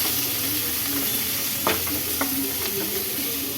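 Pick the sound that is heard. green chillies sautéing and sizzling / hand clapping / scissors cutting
green chillies sautéing and sizzling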